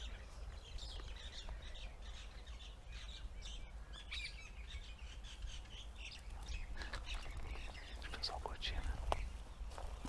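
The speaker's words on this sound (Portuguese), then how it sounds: "Então agora, os pássaros." Several birds chirp and tweet in the open air in Galilee, with scattered short calls coming and going over a low, steady background rumble, fairly faint and somewhat distant.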